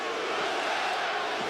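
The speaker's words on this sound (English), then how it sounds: "USA chants here at Barclays Center as this New York crowd tries to get behind one of their own." A large arena crowd at Barclays Center in New York during a UFC bout chants USA, a broad, steady roar of many voices filling the whole stretch at a distance.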